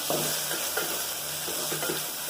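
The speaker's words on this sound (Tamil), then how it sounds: "இப்போது நல்லா மசாலா போட்டு கலரிக்கலாம்." Chili powder masala stirred in a hot pan for vegetable biryani, a steady sizzle broken by several scraping spoon strokes at an even pace.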